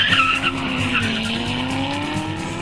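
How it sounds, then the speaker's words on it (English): A Corvette ZR1 pushed past 130 mph, a loud close engine drone with rising harmonic tones and a sharp tire-like squeal at the start, continuous and intense throughout. "he's gunning the ZR1 past 130 miles per hour and loving it"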